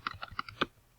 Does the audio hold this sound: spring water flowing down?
no